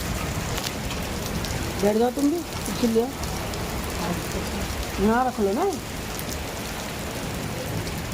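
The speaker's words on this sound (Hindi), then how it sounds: "ठंडी ठंडी फुहार आ रही भाई" Light drizzling rain falls outdoors with a steady soft hiss throughout, while people talk nearby in short bursts over it.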